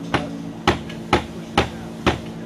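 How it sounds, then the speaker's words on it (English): Hammer blows ring out at a busy warehouse construction site, five sharp strikes spaced evenly about half a second apart, close and clear over a steady low mechanical hum. "The sound of hammering, drilling."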